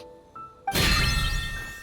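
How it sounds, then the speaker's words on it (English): A bell rings out suddenly in the Genshin Impact video game: a bright chiming burst strikes after a quiet moment, then rings on with a shimmering tail, fairly loud and alone. "Why is the bell ringing all of a sudden?"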